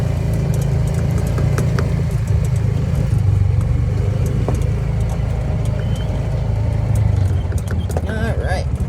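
A side-by-side UTV drives around a farm and briefly onto a road, its mid-pitched engine droning steadily and close throughout with constant rumble and wind noise, while a person talks over it.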